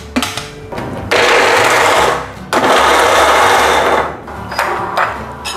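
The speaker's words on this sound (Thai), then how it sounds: "จากนั้นผมจะใช้เครื่องปั่นนะครับวันนี้" An electric blender chops garlic in loud, close bursts of whirring, with two long runs separated by short pauses and a brief final pulse.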